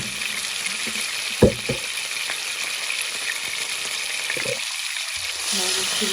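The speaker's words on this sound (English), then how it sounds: "So now I'm going to fry my saltfish and just going to put my vegetable." Saltfish and vegetables frying in a pan, a steady even sizzle throughout, broken by a sharp clatter near the start and a few soft knocks of stirring.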